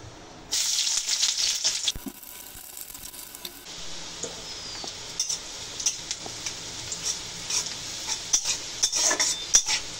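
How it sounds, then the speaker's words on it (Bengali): Onion and green chili fry in hot oil in a wok for beef keema biryani, with a bright, steady sizzle close by. A metal spoon clinks and scrapes against the pan throughout. "পেঁয়াজ আর কাঁচা ঝাল ভেজে নেব।"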